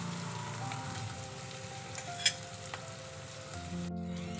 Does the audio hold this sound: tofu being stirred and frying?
yes